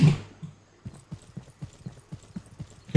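Hooves of a horse in the Estate Agent Simulator video game clip-clop in a steady walking rhythm of evenly spaced soft thuds. The sound is fairly close and heard alone after a brief bump at the start.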